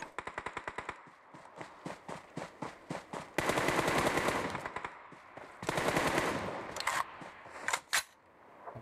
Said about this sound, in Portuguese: Tem muito tiro.